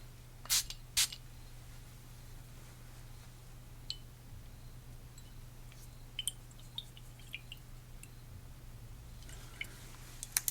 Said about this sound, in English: So let's spray away.